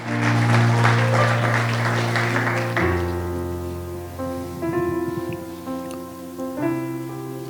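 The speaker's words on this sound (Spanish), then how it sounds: "¿Por qué no le damos un aplauso al Señor" A church congregation bursts into loud applause that swells and then fades after about three seconds, giving way to sustained tonal music and voices.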